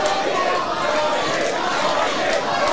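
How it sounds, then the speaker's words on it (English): Crowd at a live indoor wrestling match cheering and shouting, a steady roar of voices with scattered calls, loud and continuous throughout. "See, the crowd's starting to get into it."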